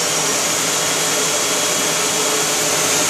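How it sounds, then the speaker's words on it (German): Loud, steady Vorwerk vacuum cleaner roar at its stronger suction level 2, with a strong high-pitched whine, running continuously up close. "2 ist die stärkere Saugstufe."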